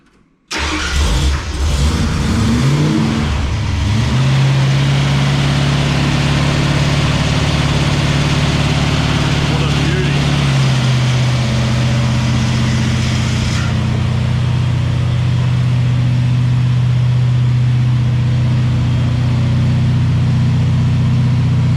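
A new 302 Windsor V8 in a 1971 Ford Ranchero cranks and catches after a short silence, revs briefly, then settles into a loud, steady, throbbing idle close by.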